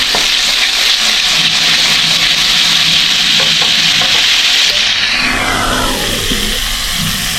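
Crushed tomatoes sauté in a hot pan with onion, garlic and ginger, giving a loud, close, continuous sizzle with steady stirring scrapes that fades slightly toward the end.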